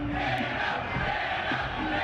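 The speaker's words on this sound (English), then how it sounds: "Not the crowd chanting Dan O behind you" Crowd at an NFL draft chanting in unison for a team's pick, a loud, dense roar of many voices sustained throughout the short moment with no speech over it.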